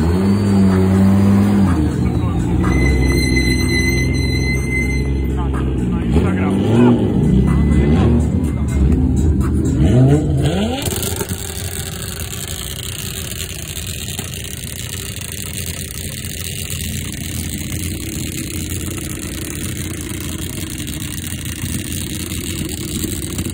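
An Audi at the Power Fest Slovakia Ring race event revs hard and close, its engine climbing and falling in repeated loud bursts over roughly ten seconds before settling into a lower, steadier drone with a faint background hum.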